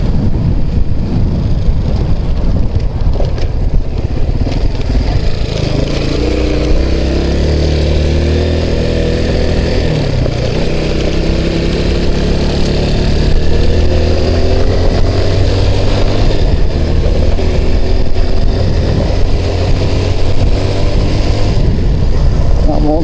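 A small Chinese Lifan pushrod motorcycle engine runs steadily and loudly, droning and shifting in pitch as it revs up and down.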